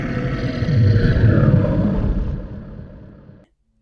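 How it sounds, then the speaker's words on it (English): A deep, sustained wild animal roar used as a story sound effect, loud and close, swelling and then fading before cutting off into silence. "Another roar ripped the air, closer this time."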